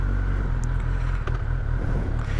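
A Kawasaki motorcycle engine catches and settles into a low, uneven rumbling idle that stays close and fairly loud over the short stretch, with no talking.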